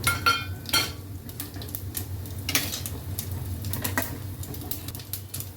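Mustard seeds and cumin sizzle and crackle in hot oil in a pan for dal kichadi, with scattered sharp pops and light utensil clinks over a steady low frying hiss.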